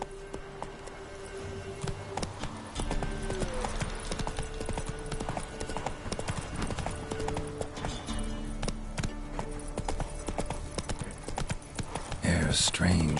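Roach the horse in The Witcher 3 gallops along, a steady rapid clip-clop of hooves running throughout with a brief whinny and game ambience underneath.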